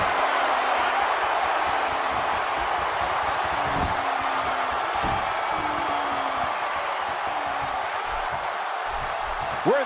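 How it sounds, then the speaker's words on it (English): A packed WWE 2K16 video game arena crowd in Pittsburgh roars steadily throughout a wrestling match, a loud, continuous wash of cheering with rising whoops near the end. "you can bet this crowd is fired up for this match"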